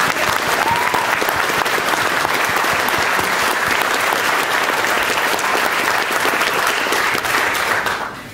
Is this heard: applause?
yes